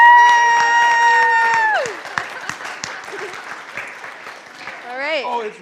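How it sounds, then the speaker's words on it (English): Loud audience applause and cheering fills a church gathering, sustained clapping with a sung, held tone fading out early and voices calling out near the end. "Give yourselves a round of applause."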